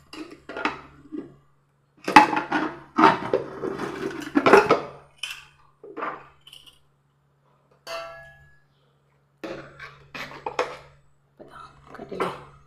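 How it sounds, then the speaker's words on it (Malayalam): A cooled pressure cooker of pink palada payasam is opened, with metallic lid clanks, rattles and scraping of pot parts in irregular bursts separated by quiet pauses. "ഇനി നമുക്കിതൊന്ന് ഓപ്പൺ ചെയ്തെടുക്കാം കേട്ടോ."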